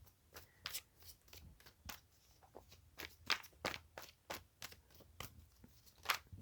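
A deck of tarot cards is shuffled close by in a quiet room. Soft, irregular riffles and flicks of card stock come in uneven bursts, some sharper snaps standing out among lighter rustles.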